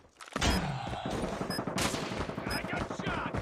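Rapid automatic gunfire from the Call of Duty Mobile video game, loud and dense bursts running almost continuously throughout, with game voice lines and alerts mixed in.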